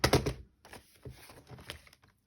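Paper page trimmed down for a book signature, a short burst of dry cutting and rustling followed by a few quieter taps and soft handling sounds, close and alone.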